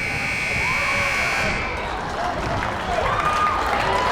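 A buzzer sounds at the end of a quarter in a girls' high school basketball game, a steady electronic tone that ends partway through over crowd noise and a gym announcer talking.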